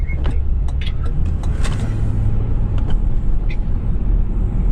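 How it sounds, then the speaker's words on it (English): Interior engine and road rumble from a 2008 Lincoln Town Car Signature L driving at night, a steady low drone with a few light clicks and taps, no talking. "Just wanted to show you some night driving in the Lincoln."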